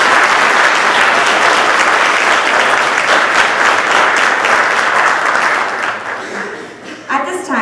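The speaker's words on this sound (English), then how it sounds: "Please give these students a round of applause for their achievements." Loud, dense applause fills a high school National Honor Society ceremony for students honored for their achievements. Steady clapping runs for several seconds, then tapers near the end as a voice begins to speak.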